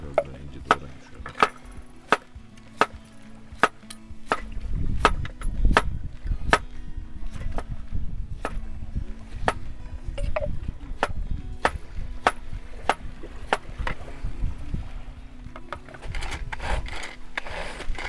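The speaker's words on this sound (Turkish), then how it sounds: "İnce doğrayayım şöyle." A knife chops food finely on a board at a riverside family campsite, sharp evenly spaced taps near the mic over a rushing, rumbling outdoor background.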